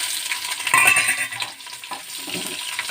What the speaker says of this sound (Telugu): ఫస్ట్ ఉల్లిపాయలు వేసుకుందామండి.